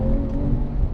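Porsche 911 Carrera S fitted with a TechArt exhaust pulling in second gear outside sport mode, a steady deep engine drone with a rising tone, close and loud throughout.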